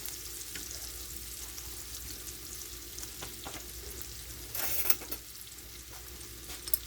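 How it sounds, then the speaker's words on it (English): Anchovies break apart and melt into a simmering puttanesca sauce, making a soft continuous sizzle with light stirring scrapes and a brief louder burst midway. "I'm going to break up this anchovies within this sauce and make them melt down into the sauce"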